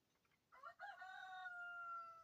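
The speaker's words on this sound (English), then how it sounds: "the rooster, if you can hear him" A single rooster crows once, a long rising and drawn-out call heard faintly from a distance against quiet background.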